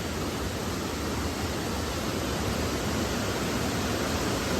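Water pours continuously at the Domzira waterfall in Jawhar, Palghar, a dense, even, close rushing hiss with no break and no voices.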